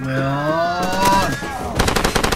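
Rapid automatic gunfire bursts out in Far Cry 2, loud and close, with a tonal game effect sweeping beneath the opening shots and a second flurry of shots near the end.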